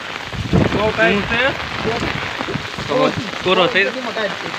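Heavy overnight rain driven by wind in the village of Kanpar, a steady wash of rainfall on surfaces beneath people talking loudly close by.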